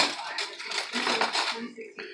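Metal cutlery clatters and clinks against dishes in a home kitchen as a spoon is picked up, a busy run of bright jangling that thins out and stops near the end.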